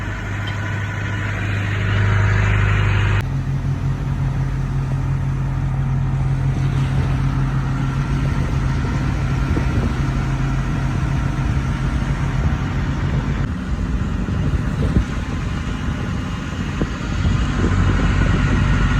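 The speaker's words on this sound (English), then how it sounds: "I'm in a 9-knot boat now. We are flying." A 9-knot fishing boat's engine off Prince of Wales Island, Alaska, drones steadily and loudly throughout, with a low rumbling hum and churning noise that shifts slightly partway through.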